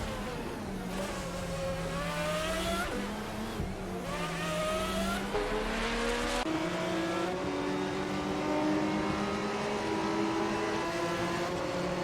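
GTR race cars lapping Road Atlanta in a racing video game, their engines droning loud and continuous with pitch rising and dropping through gear changes. Several cars overlap, and no one speaks.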